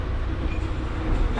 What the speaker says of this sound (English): we're on the front car of the